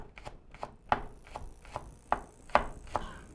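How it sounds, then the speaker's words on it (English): A kitchen knife slices herbs left whole into very thin strips on a cutting board, a steady series of about nine crisp, quiet knocks at an even pace, close and alone. "I'll leave it whole and I'll just cut very thin slices like that"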